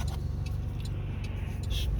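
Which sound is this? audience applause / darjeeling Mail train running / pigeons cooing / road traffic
road traffic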